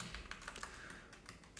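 Continuous typing on a computer keyboard at a desk, a quick irregular run of light key clicks with a few harder taps, close and fairly quiet, with no voices.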